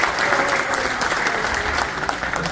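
Audience applause at a stage gathering in India, a dense, steady wash of many hands clapping that stays loud and close throughout without a break.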